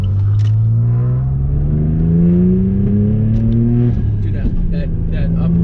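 A Saab Turbo X sedan with a Stage 1 tune, downpipe and rear muffler delete accelerates hard, engine note climbing steadily in pitch as it pulls, close and loud, with a voice talking over it.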